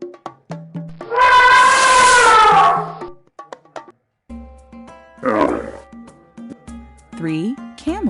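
An elephant trumpets in one loud, sustained, wavering blast of about two seconds, with a voice speaking briefly before and after it.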